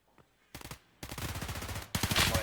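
Rapid gunfire bursts in a competitive Halo match, several loud automatic volleys broken by short gaps, with the last burst the loudest.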